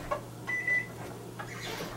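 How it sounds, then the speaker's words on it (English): Kitchen oven timer beeping after baking a hash brown pie at 425 degrees, a few short electronic beeps, faint and close, alone with a low steady hum. "Timer's up."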